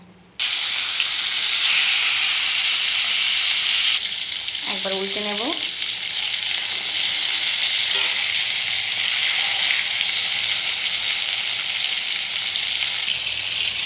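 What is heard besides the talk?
hilsa fish frying in hot oil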